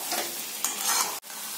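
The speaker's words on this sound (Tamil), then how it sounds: "இந்த கத்திரிக்காய் எடுத்து இதில் போடணும், போட்டு இதையும் வதக்கணும்" Eggplant pieces sautéing in a hot pan for a Tamil kathirikkai kuzhambu, a dense continuous sizzle with a brief stirring clatter and a sudden short dip near the end.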